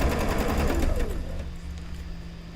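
A sewing machine stitches quilt pieces for an Open Gate quilt block, running loud and close for about a second and a half, then dropping to a quieter, steady hum.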